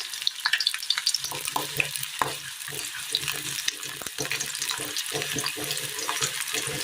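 Large shallots sauté in a pan, a steady bright sizzle with stirring scrapes and clatters throughout, close and continuous.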